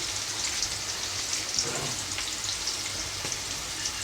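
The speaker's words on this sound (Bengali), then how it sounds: "আমি পেঁয়াজটাকে ভেজে নিচ্ছি ভালো করে, পেঁয়াজ আদা রসুনটাকে" Onion, ginger and garlic fry in a pan with a steady, close hiss and crackle, even and continuous throughout, with no talk.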